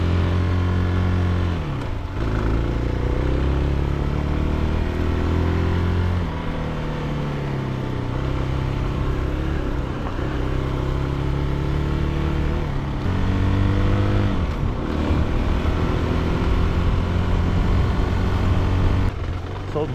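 CFLite Dual 250 motorcycle engine while riding, a continuous low droning hum with rising and falling revs as gears change, steady and close throughout with wind noise.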